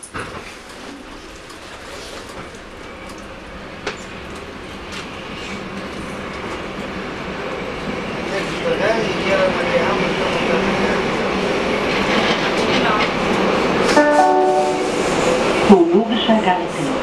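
A Berlin U-Bahn subway train runs, rumbling and rattling as it builds in loudness, with clickety-clack wheel noise and brief squeals near the end, under a faint station ambience.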